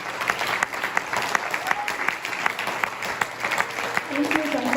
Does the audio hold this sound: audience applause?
yes